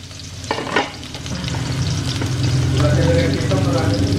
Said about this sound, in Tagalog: Lagay na natin bawang, sibuyas, luya.